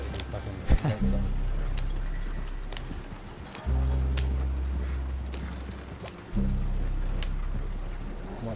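Horse hooves clip-clop steadily in a video game with a horse-drawn carriage, a rhythmic patter that runs under low rumbling bursts and someone talking.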